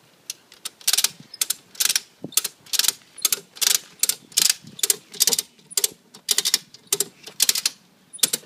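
A turbo ratchet strap is cranked to tension a vehicle stabiliser, giving a steady run of about fifteen sharp, close metallic ratchet clicks in regular bursts, with no talking.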